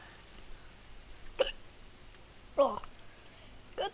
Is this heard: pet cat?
no